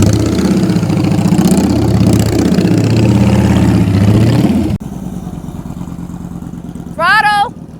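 Motorcycle engine worked by its rider, revving up and down in rising and falling sweeps, then cutting abruptly to a quieter idle before a short rising rev; a voice talks over it.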